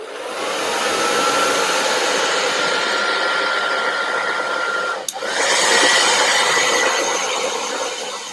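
A hair dryer blows steadily to dry paint on a pumpkin, a loud close whoosh that cuts out briefly at about five seconds and then resumes until the end.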